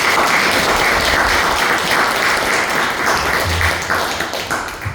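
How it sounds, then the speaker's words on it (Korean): Church congregation applauding together in a hall, a dense, sustained wash of clapping at steady volume that thins and fades slightly toward the end. "그 스님이 더 씩씩하고 멋지게 성장하고 박수 한번 좀 보내주세요."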